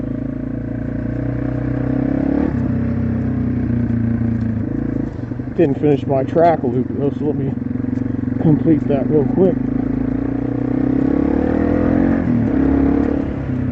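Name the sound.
Yamaha TW200 motorcycle engine revving on a trail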